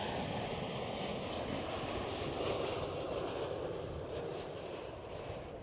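A Qatar Cargo Boeing 777 departs Schiphol, its jet engines a faint, distant broadband roar holding steady with slight swells in the wind, with no speech.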